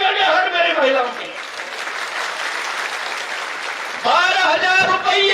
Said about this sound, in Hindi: अरे तालियों की गड़गड़ाहट मेरी महिलाओं की।